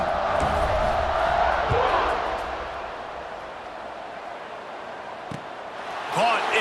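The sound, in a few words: stadium crowd cheering at kickoff in video game College Football 26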